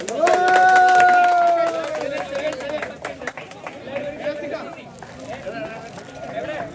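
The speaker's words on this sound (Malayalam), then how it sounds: "ഒരു കയ്യടി കൊടുക്കാം." A crowd claps and cheers for girls swimming with hands and legs tied behind them, a loud burst of applause with a shout on top that gives way to scattered clapping and busy chatter.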